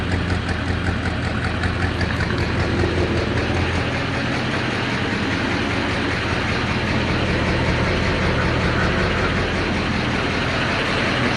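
A 1958 Plymouth Suburban two-door wagon with a 1990s-rebuilt engine idles steadily, a continuous mid-pitched mechanical rumble with fine rhythmic pulsing, close and moderately loud with no talking.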